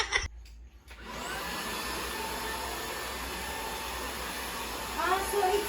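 A new cordless stick vacuum cleaner whirs steadily indoors after a few clicks at the start, a constant close hissing drone that rises a little toward the end.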